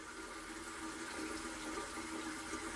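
Water running steadily from a bathroom sink tap, a constant faint hiss and splash with no break, close to the microphone.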